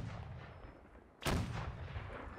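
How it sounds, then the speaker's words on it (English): Cannon fire at a fort in the Napoleonic-era game Holdfast: Nations At War: a sharp, loud blast breaks through a dense background rumble midway, followed by sustained booming reverberation, with no speech. "There's the French monk being deafened by the local cannons."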